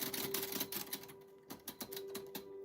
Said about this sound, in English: I have a typewriter.